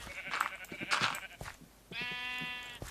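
Minecraft sheep bleat in a sheep farm, a few short, close bleats mixed with soft game clicks and footsteps, followed by one longer, steady bleat.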